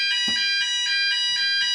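A fire alarm panel sounds a loud, high-pitched pulsing buzzer, repeating in steady beeps, preceded by a brief click.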